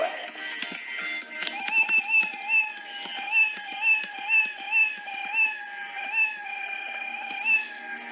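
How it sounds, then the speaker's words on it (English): Scratch programming cat meow effect repeated rapidly about a dozen times in a steady rhythm, with keyboard clicks underneath. "start sound meow."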